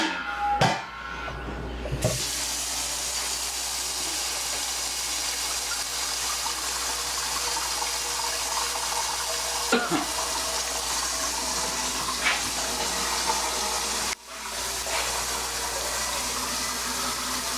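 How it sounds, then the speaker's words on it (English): Tap water runs hard into a spaghetti pan, a steady loud gushing hiss that goes on for many seconds, with brief clunks near the start and middle and a sudden dip as the flow shifts. "I'm getting water for this little recipe."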